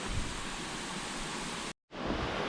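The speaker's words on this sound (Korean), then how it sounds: "시원한 계곡물이 흘러가고 있습니다 소리도 너무 시원하고 좋은데" A cool mountain stream flows through a pine forest on the Bukhansan trail in Seoul, a dense, steady wash of rushing water close by that cuts out briefly, then resumes.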